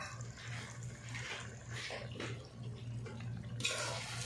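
Water poured into a pot of slow-cooked mutton karahi, a soft continuous splashing and trickling that swells slightly near the end, heard close with no talk.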